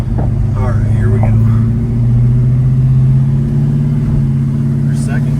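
Chevrolet Malibu drag car pulling hard through the gears, a loud close engine roar with a rising, shifting drone and brief dips between gears, with a voice talking over it.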